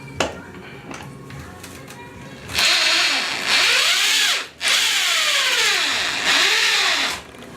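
A power drill drives Tapcon screws through a plastic toilet flange into the floor. It makes a few short clicks, then three long whirring bursts whose pitch rises and falls. The drilling is loud and close, and no one talks.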